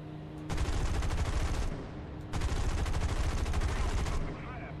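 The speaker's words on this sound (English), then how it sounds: "Oh, I got a machine gun." An aircraft machine gun fires in the War Thunder cockpit arcade battle on a Buffalo fighter, two long loud rattling bursts close by over steady engine drone.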